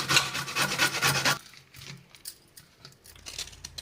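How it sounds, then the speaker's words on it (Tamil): Coconut is grated by hand for sweet coconut poli. Rapid, rough rasping strokes sound close and loud for just over a second, then give way to quieter, scattered scraping. "இப்போ தேங்காய் சீவி எடுத்துக்கலாம்."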